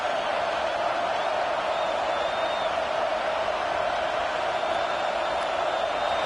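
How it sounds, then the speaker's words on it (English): A steady wall of roaring football stadium crowd noise in Happy Valley on third down, loud and continuous without pause, with a thin whistle faintly rising above it. "Here comes the noise from this big crowd in Happy Valley on third down"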